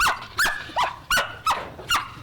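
A dog barks five times in a steady rhythm, sharp and fairly close, with short pauses between the barks and no talking.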